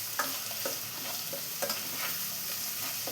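A papaya pickle mixture with turmeric and salt fries in sesame oil in a pan while a spoon stirs it. Steady sizzling sits under repeated scraping strokes, and no one talks.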